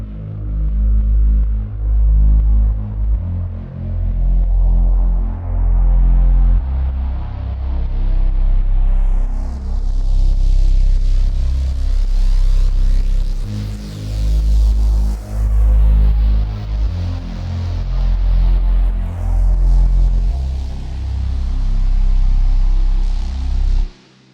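Layered software synthesizer parts, including Massive, Zebra and Falcon patches, playing together as a loud, dense sustained texture with heavy low end and slow sweeping filter swells, no voices.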